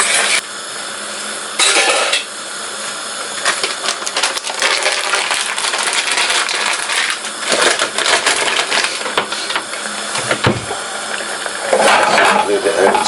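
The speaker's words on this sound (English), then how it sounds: "Give it a good stir." Rice with turmeric stirred in a metal pot, giving a busy scraping, rattling clatter of grains and spoon against the pan, fairly close and loud in uneven bursts, with a voice talking at times.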